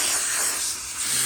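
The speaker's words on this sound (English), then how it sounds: "it's just like smoke, but it's so dry of steam, it doesn't get the carpet wet" A steam cleaner blasts dry steam onto a BMW's interior carpet, a loud continuous close hiss that holds steady with a slight dip before surging again.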